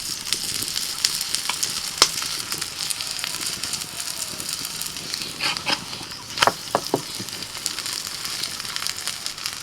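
Semolina (suji) parathas fry in a little oil on a hot pan, giving a continuous close sizzle and crackle with a few sharper pops and light scrapes as the flatbread is turned; nobody speaks.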